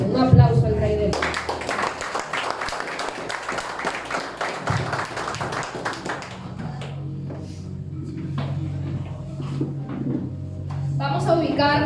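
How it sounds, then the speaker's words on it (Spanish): A church congregation applauds in a dense burst of clapping for several seconds that fades into scattered claps and a low sustained tone, with talk heard around it. "Un aplauso al Rey de Paz"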